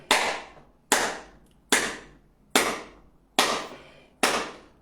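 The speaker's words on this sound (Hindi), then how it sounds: "तालियां बजाएं दोस्तों" A group claps hands in unison as an acupressure exercise, six loud sharp claps spaced evenly about a second apart, each ringing briefly before fading.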